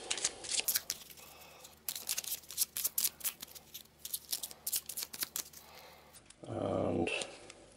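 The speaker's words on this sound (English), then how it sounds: "now we can shuffle the deck" Cards shuffled by hand for a tabletop card game, a string of quick riffling and papery flicks in short bursts, close and clear, ending with a longer rustling riffle.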